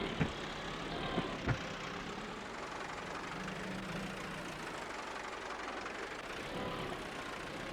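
A Massey Ferguson tractor's engine runs steadily in Farming Simulator 22, a low, even idling drone with a few sharp clunks near the start and no talking.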